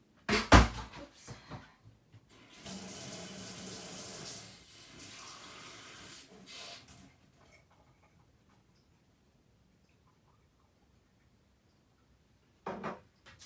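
A kitchen tap runs steadily for a few seconds while a glass is filled, preceded by a clink and followed by quiet, with a brief knock at the end.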